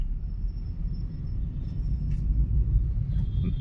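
Road traffic in Pune gives a steady low engine rumble from cars and vehicles nearby, with faint higher whines over the drone.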